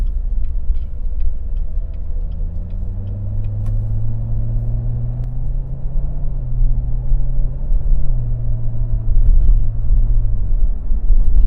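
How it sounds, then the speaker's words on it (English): Corvette C7 Z06 engine pulling hard under acceleration, a loud, close deep rumble whose pitch climbs and drops in quick steps as the transmission shifts rapidly, with faint clicks. "the transmission seems to be shifting really fast"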